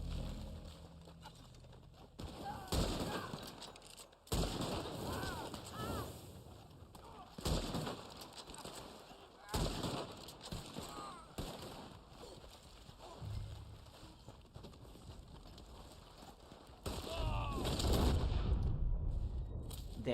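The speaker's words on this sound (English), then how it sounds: "Look, I'm using the Springfield rifle, a gun almost no one ever uses." Springfield rifle shots crack in Red Dead Online, a handful of loud, widely spaced single reports separated by quieter stretches of ambient game sound, with a heavier rumbling section near the end.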